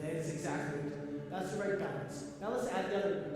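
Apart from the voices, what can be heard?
No everyday noise stands out behind the speech.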